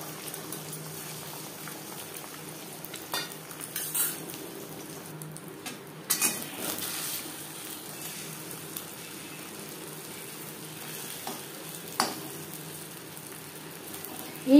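Egg batter frying in oil left over from frying potatoes, a soft steady bubbling sizzle close by with a few faint clicks and light knocks, no talk.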